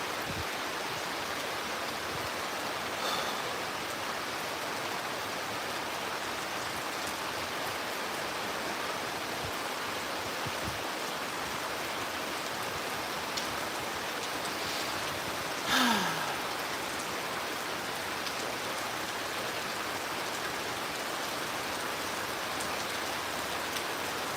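A waterfall sends up a steady, even rush of falling water that holds unbroken throughout, with only a brief faint chirp rising over it midway.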